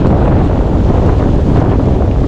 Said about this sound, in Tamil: காற்று பயங்கரமாக அடிக்குது மக்களே